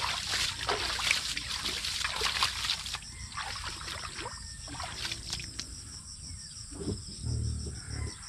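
Water trickles and splashes steadily onto an onion field during irrigation, accompanied by a high, continuous insect-like hiss.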